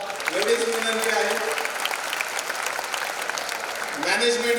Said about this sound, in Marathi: सर्वांनी एकदा मोठ्याने टाळ्या वाजवा